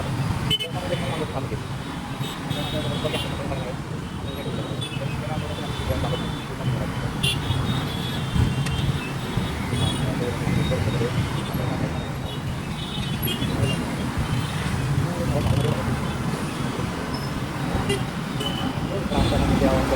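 Congested road traffic with vehicle engines droning steadily and car horns tooting now and then, while people talk nearby throughout.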